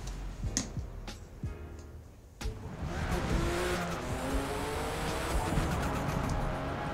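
An BMW M2 tuned to 656 hp drifts in the video game Forza Motorsport, its engine roaring loud and steady while the tires squeal through a sustained slide after a quieter opening with brief clicks.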